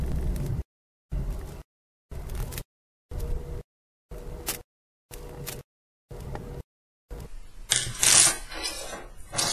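Small metal M5 and M3 nuts are fitted onto Prusa i3 3D printer parts, with a run of short, evenly spaced metallic clinks and rattles, close up, and a busier handling noise at the end.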